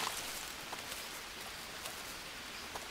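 Steady rain in the jungle survival game Green Hell, a soft, continuous hiss of drops spread evenly across the scene with a few faint taps, no voices over it.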